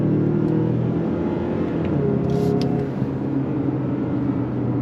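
A 2025 Mazda CX-5 Turbo AWD compact SUV accelerating under throttle, a steady close engine drone with rising tone over road and wind noise, heard alone without talk.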